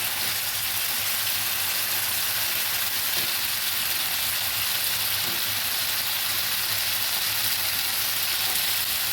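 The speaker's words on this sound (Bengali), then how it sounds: "ভালো করে নেড়ে দিচ্ছি" Potatoes fry and are stirred in a pan for a fish curry, a steady close crackling sizzle that continues evenly throughout with no talk.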